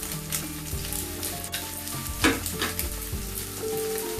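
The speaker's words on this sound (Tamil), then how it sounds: "நல்லா ஃப்ரை ஆகணுங்க, அப்பதான் கிறிஸ்பியா இருக்கும்." Chicken pieces frying in hot oil for Thai crispy basil chicken, with a steady dense sizzle and crackle close by, one louder spatter partway through, and no talk.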